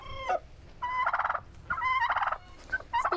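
Turkeys in a barn gobble in several loud, rapid, warbling bursts separated by short pauses, close by, with faint rustling underneath and no talking.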